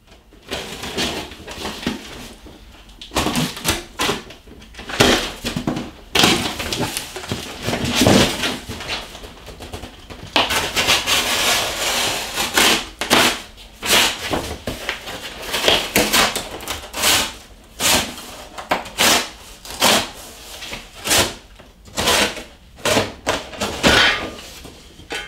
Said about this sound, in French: on va ouvrir le carton.